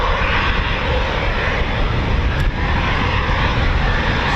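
An RAF Eurofighter Typhoon FGR4 jet at RAF Coningsby roars loud and close, a steady sustained engine rush filling the whole stretch with no voices over it.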